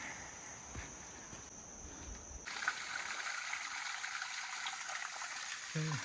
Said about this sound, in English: Hear the stream down below.